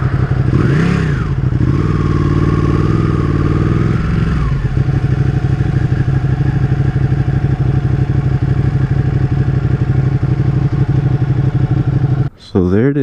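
A Ducati 959 Panigale sport motorcycle engine sounds up close and loud, with a quick rev that rises and falls at the start before settling into a steady, rumbling idle that continues throughout.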